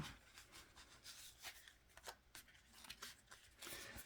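Repeated crisp riffling and rubbing of cards, several quick shuffles in a row at close range with no talking.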